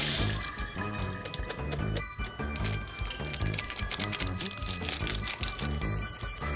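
Tap water runs and splashes as rice cakes are rinsed in a kitchen sink, with a steady rush broken by clatter and dripping; no one speaks.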